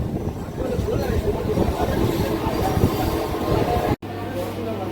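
A local train on the Howrah–Panskura line rolls into Uluberia station, wheels rumbling and clattering steadily over the rails. Faint voices murmur under the noise, which cuts out abruptly near the end.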